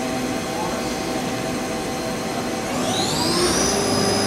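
A Star SR-32J CNC Swiss lathe spindle whirs up, its steady machine hum joined midway by a rising high whine as the speed climbs, close by, with people talking briefly.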